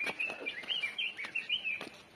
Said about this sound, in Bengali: পাখির কলতান,